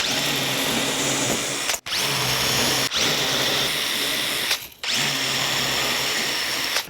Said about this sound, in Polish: Mamy już ustawione dwie równo, więc możemy śmiało wiercić przez obydwie nasze